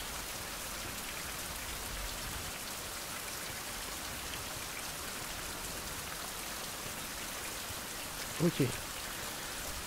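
Steady rain pours down in the survival game Fountain of Youth, a dense, even hiss that holds for the whole stretch, with a short burst of speech near the end.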